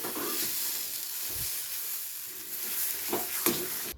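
Shrimp bhorta with bottle gourd leaves fries in a kadai with a steady, close sizzle and hiss, broken by a few soft scraping stirs near the end.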